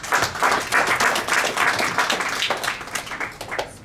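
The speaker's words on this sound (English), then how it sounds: "give yourself a round of applause." A crowd claps and applauds steadily, loud and close, tapering slightly toward the end, with no talking.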